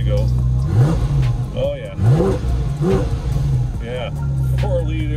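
Porsche 718 Cayman GT4 RS with a 4-liter naturally aspirated flat-six boxer engine revving repeatedly in sharp blips over a steady idle, loud and close with strong induction noise, while someone talks briefly.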